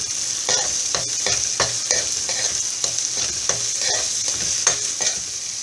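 Onions sauté in a big pan for pav bhaji, a steady bright sizzle broken by regular scraping strokes of stirring, close and loud with no voices.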